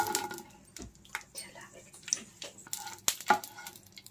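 Green chillies fry in hot mustard oil in a frying pan, a close crackling sizzle with bursts of spitting and occasional clatter of a utensil against the pan, no speech.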